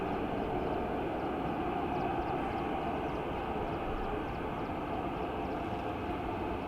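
An ATR turboprop at Dublin Airport drones steadily from a distance, a continuous broadband engine rumble with no breaks, heard alone without voices.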